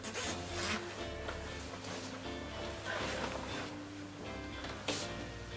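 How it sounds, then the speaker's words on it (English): A zip on a cheap puffer coat is worked up and down in several quick rasping pulls amid fabric rustle, fairly close and quiet, with no speech. "the zip feels very like cheap"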